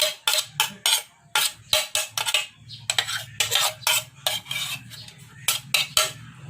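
Metal utensil scraping and clinking rhythmically against a bowl while grated cheese and carrots are mixed together for a homemade chicken sandwich spread; steady, close strokes with no talking.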